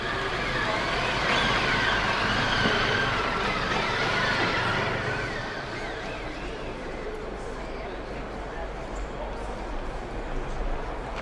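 Official motorcade car carrying the King and Queen of Spain arrives at Portugal's Assembleia da República, with a steady broadband traffic rumble that is louder early and eases after five seconds, under continuous commentary.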